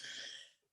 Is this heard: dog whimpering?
no